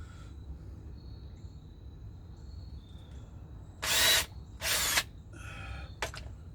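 A power drill boring a pilot hole, two short close bursts of high whirring a second apart, followed by a brief faint spin, over a quiet background hum.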